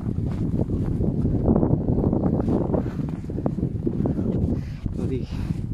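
Strong wind gusts during fresh snowfall roar as a steady, dense rush close to the microphone throughout, with voices talking over it.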